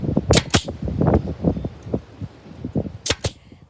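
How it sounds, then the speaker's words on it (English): Nail gun driving nails into a DIY craft desk top: a series of sharp pneumatic snaps and thuds, several quick shots close by with two bright cracks near the end. "To attach it, we use the liquid nail and also the nail gun."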